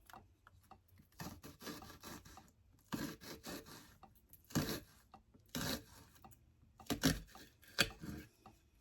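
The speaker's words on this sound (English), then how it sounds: "I'm cutting up my onions." Onions being cut with a knife on a plate at home, a series of irregular scraping and rasping strokes that come in short bursts with pauses, close and fairly quiet, no voices.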